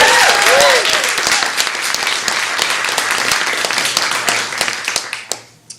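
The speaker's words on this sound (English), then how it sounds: "quick round of applause for Gallery5 for hosting us today" Dense, steady applause from an audience at a Gallery5 event on single-payer healthcare, many hands clapping at once at close range, then quickly thinning and fading out at the end.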